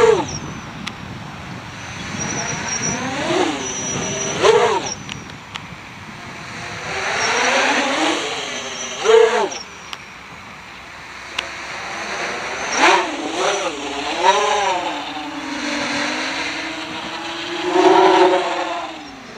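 Quadcopter motors with 7 inch props on a Q-Brain ESC rev up and down in repeated surges, loud and close, with desync stutters on a partly drained battery.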